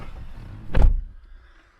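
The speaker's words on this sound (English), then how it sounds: "We'll close the doors." A door of a 2015 GMC 3500 Denali HD truck shutting with one solid, close thud, then a short fade into quiet, with faint background noise before it.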